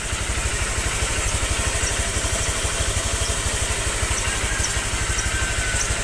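A Honda Click scooter engine idling while warming up in the morning, a steady fast low putter with even rhythmic pulses and mechanical hum, close and continuous without speech.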